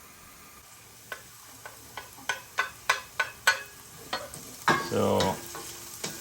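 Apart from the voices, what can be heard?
sliced garlic sizzling while stirred in a pan with onions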